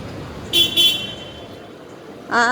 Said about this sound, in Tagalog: May kotse, may car sa likod ko. Pinutputan ako.